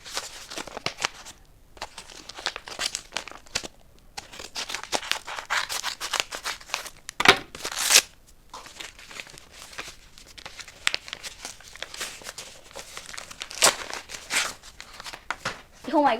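A book parcel is unwrapped close by, with crinkling and tearing of the wrapper in bursts and brief pauses, while someone talks over parts of it.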